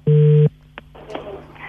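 An incoming call on a telephone sounds as one loud, steady electronic ring tone lasting under half a second, followed by quiet room noise with a couple of faint knocks.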